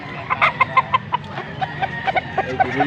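A gold stag rooster gives a rapid series of short clucks close by, about a dozen sharp calls in an uneven rhythm over low background noise.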